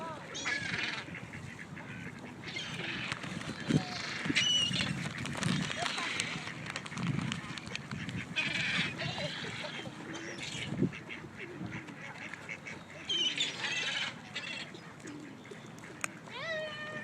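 Ducks quack repeatedly at a lake while being fed, scattered honking calls near and farther off, mixed with other bird calls and outdoor ambience, while adults and someone talk throughout.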